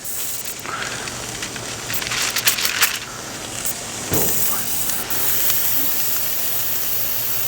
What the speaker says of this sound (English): Oh, the sizzle, the sizzle.